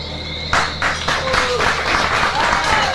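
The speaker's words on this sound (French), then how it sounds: "Un tonnerre d'applaudissements s'il vous plaît" An audience claps in response to a call for a thunder of applause during a handover ceremony, a short burst of scattered hand claps building into brief, moderate applause, with voices mixed in.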